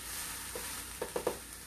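Beef kabobs and vegetables with a balsamic glaze sizzle on a George Foreman grill, a quiet steady hiss broken by a few soft crackling pops near the end.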